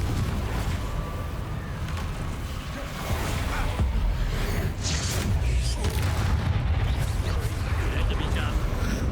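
In Hogwarts Legacy, the Confringo spell erupts in a heavy, booming fiery blast. Loud rumbling impacts and crackling bursts layer over continuous game noise.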